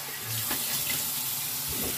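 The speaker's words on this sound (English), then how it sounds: "Cool water rinse." Water runs from a bathroom tap for a cool rinse after shaving, a close, steady splashing hiss that fills the short moment with no voices.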